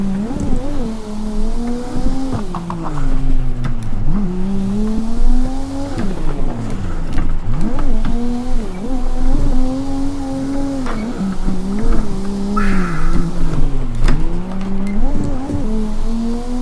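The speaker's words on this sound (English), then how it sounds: "I've literally been drifting for about 15 minutes or whatever" A car drifting at night, its engine revving and dropping in steady waves while the tyres squeal through long slides, close and loud throughout with no talking.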